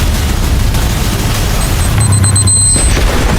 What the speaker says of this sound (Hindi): यहाँ कभी भी धमाका हो सकता है